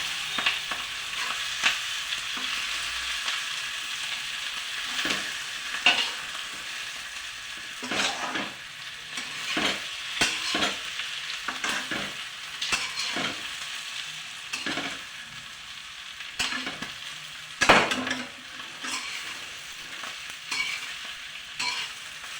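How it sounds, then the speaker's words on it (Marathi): Stuffed green chillies frying one by one in hot oil for bharleli simla mirchi, a steady sizzle broken by repeated scraping stirs of a spatula against the pan, close and clear with no talk. "एक एक मिरची अशी तेलात फ्राय करायची आहे."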